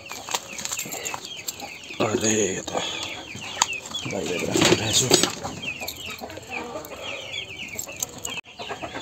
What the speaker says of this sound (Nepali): यतिको चाहिँ हुन्छ मेरो कुखुराहरू